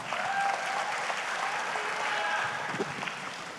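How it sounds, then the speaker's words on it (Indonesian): A conference hall audience at the Kadin national leadership meeting gives Indonesia's finance minister a sustained burst of applause, dense and even, with a few voices mixed in. "Bapak, Ibu-Ibu, tepuk tangan buat Pak Menkyu."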